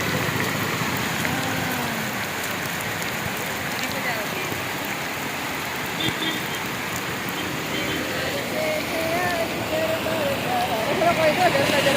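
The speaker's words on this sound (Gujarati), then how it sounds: "ફૂલ વરસાદ ચાલુ થઈ ગયો." Heavy rain pours steadily at Willingdon dam in Junagadh, a dense, even hiss that holds throughout, with faint voices in the background.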